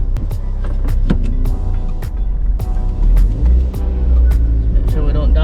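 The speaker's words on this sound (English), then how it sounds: "First drive of the MX-5." A Mazda MX-5 drives on its first road run after a crash-damage rebuild. The engine hum stays steady and loud throughout, with repeated sharp clicks and rattles over it and a voice speaking briefly.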